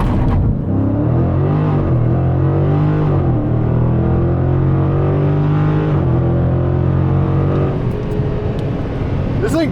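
A Dodge drag car launches off the trans brake with a loud, sustained roar of engine revving and accelerating hard, very close and powerful throughout, the pitch rising and shifting as it pulls away.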